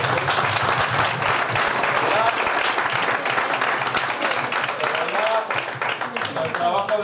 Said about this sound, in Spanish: Y hasta un aplauso.